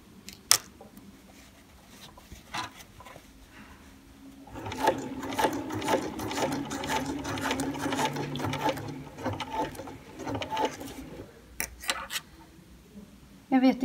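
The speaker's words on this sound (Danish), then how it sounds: "Så la meg sy litt til og vise det." A BERNINA sewing machine stitches over a thick area of fabric, with a few quiet clicks and then a steady rhythmic run of stitching lasting several seconds before it slows and stops.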